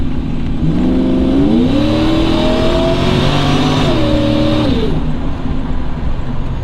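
A Procharged Chevrolet Trailblazer at wide-open throttle, loud steady engine drone with rising tones that climb through the gears, dipping briefly at a shift, then easing off.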